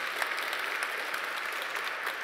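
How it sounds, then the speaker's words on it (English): An event audience claps together in a steady, dense wash of applause that holds evenly from start to end, with no voices over it. "I think it's in order to have a little applause for everything involved here"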